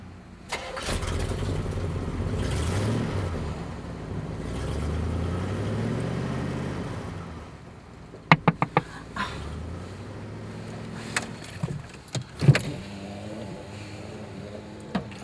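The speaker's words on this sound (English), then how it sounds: "Did you see that car that just left?" A car engine starts and idles with a steady mid-pitched running sound, then fades as it pulls away, followed by several sharp knocks and clunks close by.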